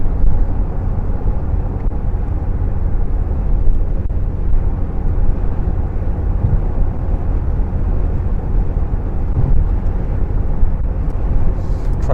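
A car cruises along the M20 motorway past a line of trucks, with a steady loud roar of road and engine noise and an unbroken rumble of tyres throughout.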